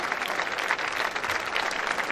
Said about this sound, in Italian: Essipontina, questi applausi sono tutti per te